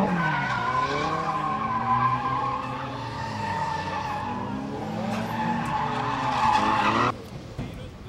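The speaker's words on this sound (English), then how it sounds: "Drifting is essentially the art of controlling an oversteer condition, where your rear end kicks out, and you want to control your slide through corners." A car drifting at a drift day event, rear end sliding through corners, its tires skidding and squealing in long sustained wails over a loud droning engine, with a sharp cutoff near the end.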